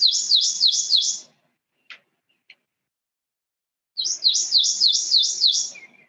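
A recorded prothonotary warbler song plays back, a loud ringing series of repeated sweet notes in two bursts with a brief quiet gap containing a couple of faint clicks, no voices.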